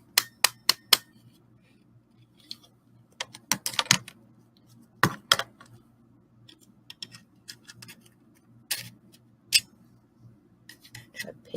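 A paper punch jammed with stuck paper gives a series of sharp clicks, snaps and scraping rattles in irregular bursts, close and loud against a quiet background.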